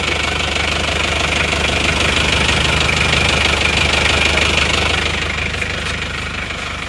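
A Panther 2.3 diesel engine idles steadily with a dense, knocking rumble and hiss, loud and close throughout, easing slightly toward the end.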